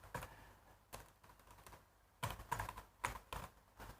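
Python code being typed on a computer keyboard, quiet close key clicks in irregular bursts and short runs with brief pauses between them, no talking.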